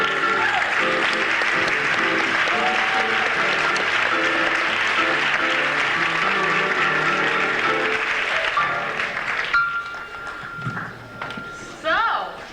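An audience at a 1981 Midwest comedy competition in St. Louis applauds a comedian, steady loud clapping sustained for about nine seconds, then thinning into scattered claps and a few stray noises near the end.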